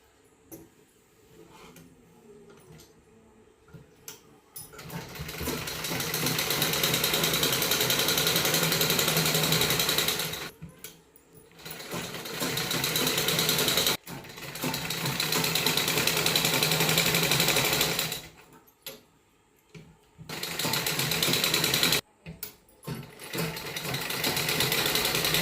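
A sewing machine runs along the edges of a net kurti in several long bursts of rapid, steady mechanical rattling, close and loud, with brief stops between runs.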